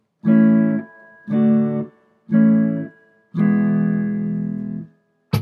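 Four strummed chords sound in sequence, the last one held longer and ringing out before a short final scrape, close and unaccompanied.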